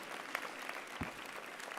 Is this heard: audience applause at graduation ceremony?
yes